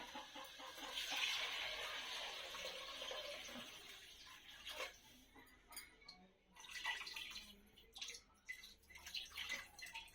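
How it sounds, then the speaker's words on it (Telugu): Water is poured into a metal cooking pot for simmering leftover meat, a soft, steady gushing splash for about four seconds, faint and close, then quieter handling sounds. "నేనైతే చెమ్ములో నీళ్లు పోస్తున్నాను"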